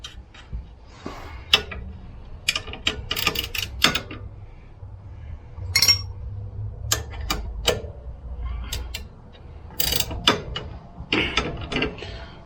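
A ratchet bolting up the front shock on a CFMOTO ZForce side-by-side, with bursts of clicking and metallic clanks spread irregularly over a quiet garage background.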